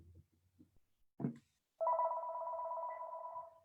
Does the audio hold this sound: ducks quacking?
no